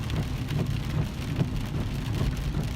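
Steady rain falls through the night, a dense even hiss with soft low rumbling underneath, continuous and fairly close with no voices.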